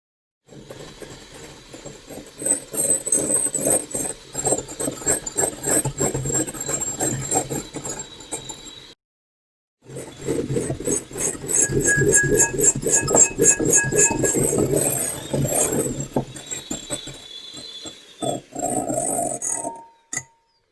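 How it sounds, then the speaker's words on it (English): An electric hand whisk beating egg whites for meringue, a continuous close whirring buzz with a rhythmic rattle against the bowl, running about eight seconds, stopping briefly, then resuming for another ten. "I'm going to use the electric whisk to whisk it up before putting the sugar in"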